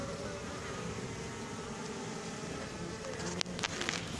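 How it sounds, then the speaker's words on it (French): Honeybees buzzing near a hive during queen installation, a steady close hum with a sharp knock or tap near the end. "Il y a quelques abeilles qui me jaugent là en haut"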